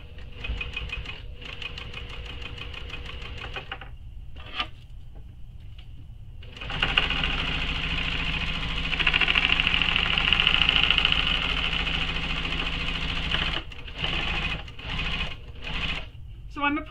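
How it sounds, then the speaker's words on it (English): A sewing machine stitches along a shoulder bag strap in bursts of steady mechanical whirring, with short rhythmic runs, pauses and a longer, louder sustained run in the middle, close by. "I'm going to continue stitching all the way back down this other side of the strap"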